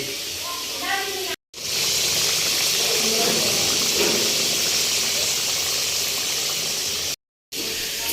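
Potatoes sizzle steadily in a hot pan, being fried for a dahi mutton dish, a continuous hissing crackle that cuts out briefly twice.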